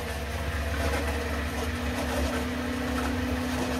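A reinstalled micro hydro turbine runs with one water nozzle open, giving a moderate, steady mechanical whir with a constant hum and rushing water texture throughout, heard alone without voices.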